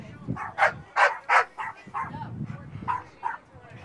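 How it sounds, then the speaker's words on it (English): Dogs fighting behind a rugby pitch, a rapid series of yips and barks with whimpering, fairly near, with faint voices underneath. "some dog fight going on behind us"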